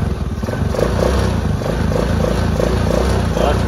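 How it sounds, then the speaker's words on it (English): A four-wheeler ATV engine running without the choke, with a loud, close, steady chugging idle and a slightly uneven rhythm throughout. "it's running without the choke on, so that's good."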